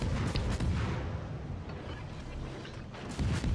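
Ship guns firing in a naval combat video game at a destroyer, a continuous rumbling roar of heavy guns with low booming thuds and mechanical creaks.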